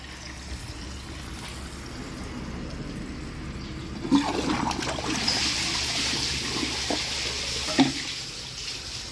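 A Glacier Bay toilet with a fully glazed trapway, altered so it can no longer siphon, gives a weak, quiet flush: a soft swirl of water that swells partway through with a couple of small clunks.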